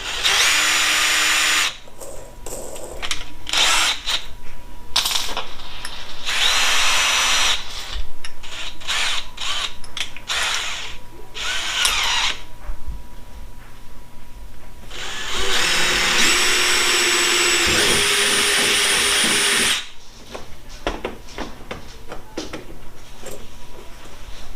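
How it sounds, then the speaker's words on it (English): A power drill with a 1/8 inch bit bores a small pilot hole during a Perception Outlaw 11.5 kayak fitting, whining in a series of close, loud bursts of varying length, broken by short pauses and faint handling noises. "I used my 1/8 of an inch drill bit, made me just a little mark there"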